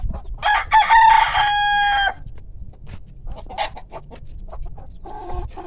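A rooster crows loudly and close, one long cock-a-doodle-doo, followed by scattered clucking and rustling from chickens nearby.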